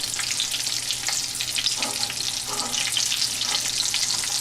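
Cheese wedges frying in a pan on medium heat after being flipped, with a steady close sizzle of crackling hiss and a few soft scraping sounds.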